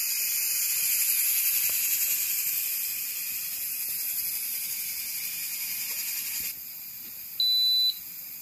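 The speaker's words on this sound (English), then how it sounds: "Here's my steam." Steam venting from a Nesco electric pressure canner during home canning of milk, a steady high-pitched hiss that weakens partway through, followed by a short electronic beep near the end.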